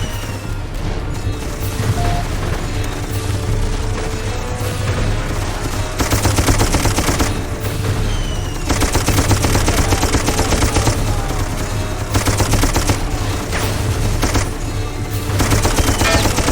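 Sustained machine-gun cover fire in the Darkest of Days video game: loud, dense, rapid bursts that roll on across the whole stretch, swelling in several heavy waves with brief lulls between them.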